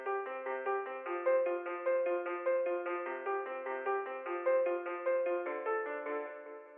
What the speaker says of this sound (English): After that I just duplicate that concert piano and I play another melody.